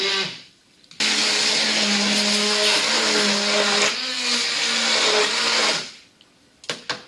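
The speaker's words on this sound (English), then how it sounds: "we're just going to place it inside our pan and we're going to blitz our soup together till it's into a fine paste" A hand blender blitzes leek and potato soup in a pan, starting abruptly and running as one steady, loud motor whir for about five seconds with slight pitch shifts, then cutting off, followed by a few faint clicks.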